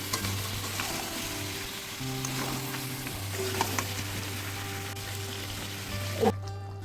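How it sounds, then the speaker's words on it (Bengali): Mutton sizzling in a pan as it is slowly sautéed with spice-rinsing water, a steady crackling fry with occasional scrapes of stirring and a brief clink near the end. "আমি এইভাবে মশলা ধোয়া জল দিয়ে আস্তে আস্তে মাংসটা ভালো করে কষিয়ে নেব।"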